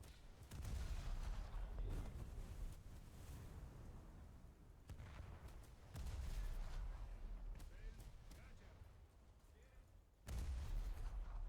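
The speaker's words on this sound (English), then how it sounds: "I don't know if these shrapnel rounds are doing anything. Launch all the torpedoes." A warship in a video game fires shrapnel rounds and launches torpedoes, giving heavy rumbling booms and gunfire in three loud sustained waves separated by slightly quieter stretches of continuous battle noise.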